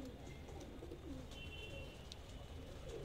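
A Patiala pigeon coos softly amid steady outdoor background noise, the low murmuring calls blending with faint ambient hiss throughout.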